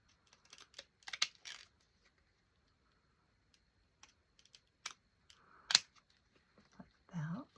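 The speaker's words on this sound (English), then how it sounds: "Give it a little snip with our zigzag scissors." Several quick, crisp snips of zigzag scissors cutting paper, spaced irregularly, close by, with a brief voice near the end.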